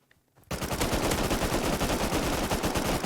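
Sustained automatic gunfire from the video game Rust bursts in after a quiet moment: a rapid, loud, close stream of shots that continues without pause.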